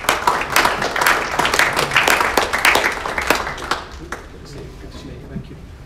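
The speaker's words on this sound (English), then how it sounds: "round of applause, please" A conference audience at a racecourse gives a round of applause, a dense burst of clapping that gradually thins and fades over several seconds.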